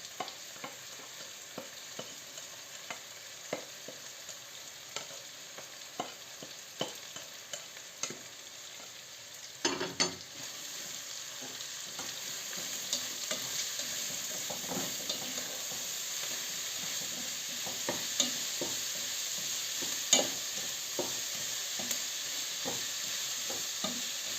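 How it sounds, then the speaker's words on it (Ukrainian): A pan sizzles steadily while carrots are fried, with scattered clicks and scrapes of stirring; the hiss grows fuller partway through. "Додаємо тепер моркву. Робимо повністю таку зажарку."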